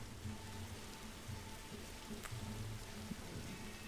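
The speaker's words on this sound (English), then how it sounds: "Tis currently raining here at" Steady rain patters on a surface throughout at Greater Rockford airport, a dense, even hiss with a low rumble underneath, like an engine idling nearby.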